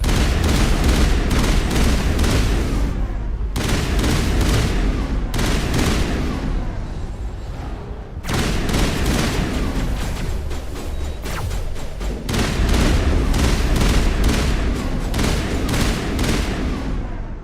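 Sustained assault rifle fire in the game Mass Effect, dense bursts of loud rapid shots in long runs with only a couple of brief pauses, close and dominant throughout.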